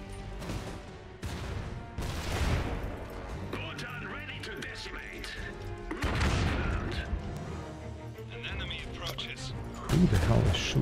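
Gunfire and artillery rumble through a battle in Iron Harvest 1920, with heavy booms and scattered shots thudding away at mid-distance beneath someone talking.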